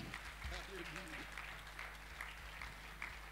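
A church congregation at a wedding ceremony breaks into steady, sustained applause, with many hands clapping throughout and a brief voice heard near the start.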